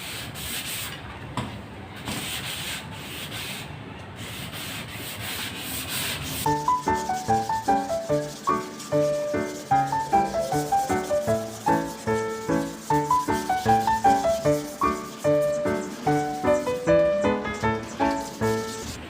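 Steady rhythmic rubbing of 320-grit sandpaper over primer on a car body, repeated back-and-forth strokes, close and continuous, with no voices.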